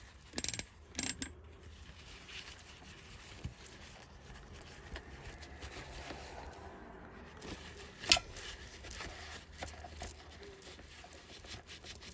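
Viking 8933 sewing machine mechanism turning over by hand after oiling, soft ratcheting clicks and light mechanical patter at close range, quiet and steady, with one sharper click partway through.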